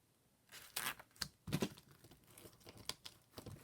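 Plastic packaging around a pack of Stampin' Up designer series paper is torn and ripped open by hand, giving close, irregular crinkling and tearing bursts, quiet and without talk.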